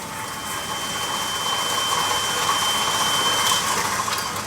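Electric mixer beating butter with a large amount of sugar at a slow speed, a steady mid-pitched motor whir with a gritty churning texture that holds even and fairly loud throughout, with no talk.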